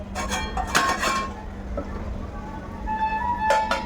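Metal lid clinking onto a pan of simmering lasuni methi gravy in a home kitchen, with a couple of bright clanks and a faint background hum.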